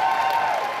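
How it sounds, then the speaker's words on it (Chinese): Applause and cheering from the audience at a youth forum for presidential candidates, a dense burst of clapping that cuts off abruptly after under a second. "掌声和欢呼声有多热烈？"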